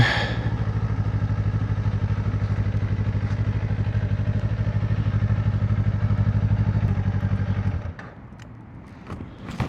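A Kawasaki Ninja 500 motorcycle with its stock exhaust runs close by with a steady, throbbing mid-pitched engine note for several seconds, then shuts off, leaving quieter clicks and light sounds.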